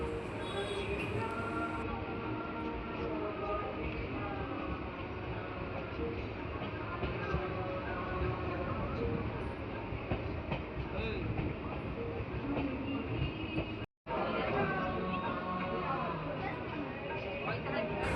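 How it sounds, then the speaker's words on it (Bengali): A local train pulls out of Naihati station, its steady rumble and rail noise filling the whole stretch, with a brief dropout near the end. Voices are heard over the running train. "আমাদের ট্রেন বেরিয়ে যাচ্ছে নৈহাটি স্টেশন থেকে"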